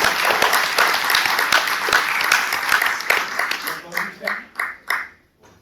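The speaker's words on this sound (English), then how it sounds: "Let's all give a big round of applause to our treasurer candidates." An audience at a Chamber of Commerce candidate forum in Torrance applauds the treasurer candidates. Loud, dense clapping holds for several seconds, then thins to a few scattered claps and stops.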